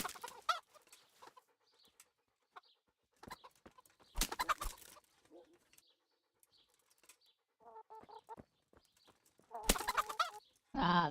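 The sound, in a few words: chickens clucking in a video game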